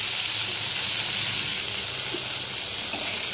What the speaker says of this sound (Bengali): পটলটা ভাজা হয়ে এসেছে,